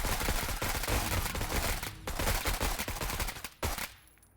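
Suppression fire in the turn-based tactics video game Menace, a dense sustained burst of automatic gunfire that stops abruptly near the end, followed by a final short burst.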